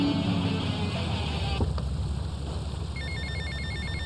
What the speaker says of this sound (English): I think there's one final phone call.